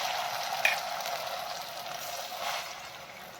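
Handvo batter added over a mustard-seed and sesame tempering in a kadai, a soft steady sizzle with a brief pop near the start, fairly quiet, no talking.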